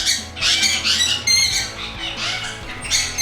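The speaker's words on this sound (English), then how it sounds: "You guys have pretty much seen the birds that cause all that noise in all my videos." Pet birds indoors squawking, loud harsh shrieks in several overlapping bursts with brief gaps, close and piercing, a raucous household flock.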